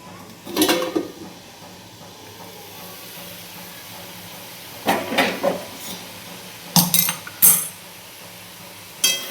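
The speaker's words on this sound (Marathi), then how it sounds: "दोन तीन मिनटं झालेत आता बघू आपण झाकण काढून शिजले की नाही शेंग" Metal lid lifted off a pot of beans cooking on the stove in a village kitchen, with sharp clinks and clatters separated by pauses over a low, steady steamy hiss.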